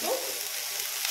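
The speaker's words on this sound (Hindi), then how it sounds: "अब 5 मिनट भूनेंगे" Sprouts with salt and black salt sautéing in a pan over high flame, a steady close sizzle and frying hiss throughout the short moment.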